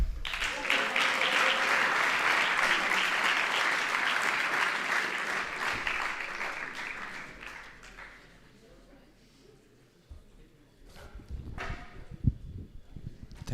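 Warm applause at a school English speech competition for the winners, with a full burst of clapping for about seven seconds that fades out, followed by quieter shuffling and scattered sounds.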